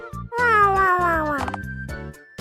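A pet cat named Mimi meows in a long, clear, close cry with tonal, falling pitch, set over soft background music.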